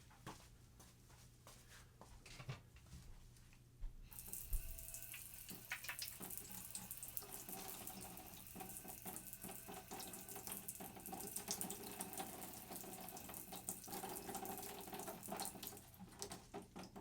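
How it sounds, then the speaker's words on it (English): A tap runs water over a telescope primary mirror being rinsed for resilvering. The flow is thin at first, then turns into a strong, continuous splashing stream that stays steady and close, with no talking. "So I'm going to give it another rinse."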